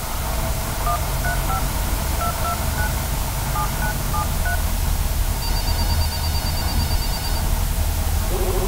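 Touch-tone dialing beeps on a satellite phone come in a quick run of short keypad tones, then a sustained steady tone, all under a constant loud hiss of static.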